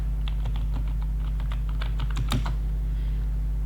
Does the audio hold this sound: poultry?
no